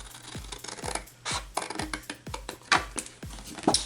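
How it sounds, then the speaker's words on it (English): Scissors cut through cardstock along a score line, giving a rapid series of crisp snips and scraping slides, close and fairly loud, with no talking. "And then we're just going to cut this down on the score mark."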